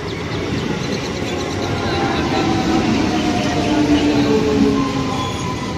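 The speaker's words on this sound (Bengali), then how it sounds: "ট্রেন অলরেডি চলে এসছে।" A train pulls into a station with a loud, continuous rumbling roar of rolling wheels and carriages that swells slightly toward the middle and stays close throughout.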